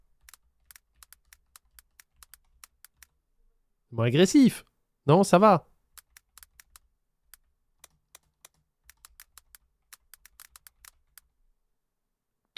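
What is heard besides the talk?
computer keyboard typing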